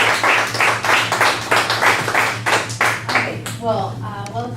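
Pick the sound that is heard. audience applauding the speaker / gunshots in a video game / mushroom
audience applauding the speaker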